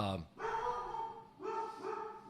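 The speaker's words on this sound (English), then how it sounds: "I've got 2 downstairs that are barking because we got stuff going on out in the neighbor's yard" Two dogs bark downstairs in a home, giving a few sharp, tonal barks in short bursts that sound somewhat distant and muffled.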